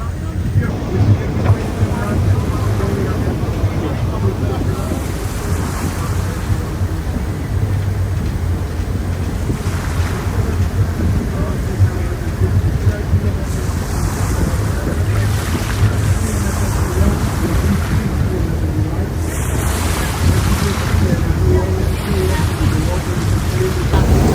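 A boat cruises across Lake Ohrid with a steady low engine drone under constant wind buffeting and rushing water, loud and unbroken throughout.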